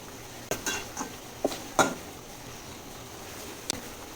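A utensil knocks and scrapes against a pan while fried prawns are stirred into masala with taro stems, giving a handful of sharp, scattered clinks with quiet pauses between them and no talking.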